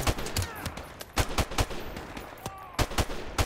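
Gunfire in Call of Duty Modern Warfare Remastered during a Search and Destroy match: a burst of rapid close shots, then sharp single and double cracks at irregular intervals.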